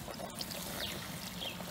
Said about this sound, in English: I've added the last bit of the special mix that I made in, the last bit of water here